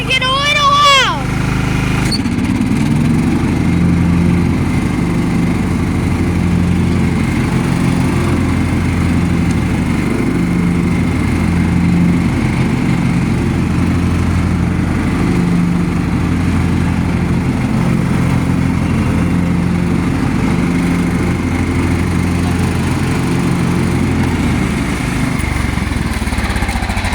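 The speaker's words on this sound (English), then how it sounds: "Okay. It's gonna get a little loud." An old restored lawn mower engine runs loudly and steadily while cutting grass, a continuous close mechanical drone throughout with a brief pull-start burst at the beginning.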